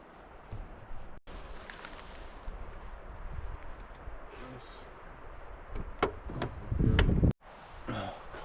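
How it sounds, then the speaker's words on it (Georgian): Wind gusts buffet the microphone at a lakeside campsite on Tabatskuri lake, rumbling and uneven over several seconds with a few knocks and rustles, one gust swelling loudly before cutting off. "ქარი როა"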